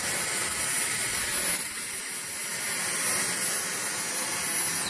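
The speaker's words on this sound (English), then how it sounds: "So let's see how this Dyson performs on this carpet." A Dyson DC59 Motorhead cordless vacuum cleaner runs on carpet with a steady, loud, hissing whine that dips briefly midway and then holds constant throughout.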